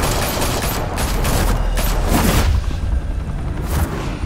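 Police officers open fire in the Batman: The Telltale Series video game: a loud, dense fusillade of rapid gunshots with booming low rumble, continuous and unbroken by speech.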